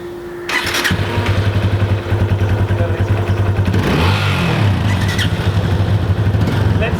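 A Yamaha FZ25 motorcycle engine starts and revs, its exhaust rising in throaty bursts before dropping to a pulsing idle, then climbing again, loud and close.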